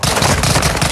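Gunshots crack in a video game during an online shooter match, a loud, tightly packed rapid burst that fills the moment close and saturated.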